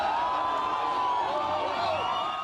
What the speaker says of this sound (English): This morning, cheering supporters welcomed Iran's negotiators home.